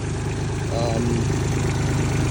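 Diesel engine of a Case TL100 mini skid steer running steadily nearby, a loud even low rumble with a rapid rhythmic tick, while a voice briefly murmurs over it.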